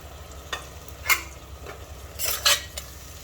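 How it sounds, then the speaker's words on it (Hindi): Frozen green peas and tomato are stirred and fried in a pan for a Sindhi fenugreek and pea pilaf, producing a soft sizzle under scraping spoon strokes and a few metallic clinks, close and without voices. "अब इस टमाटर और मटर को हम अच्छे से भून लेंगे"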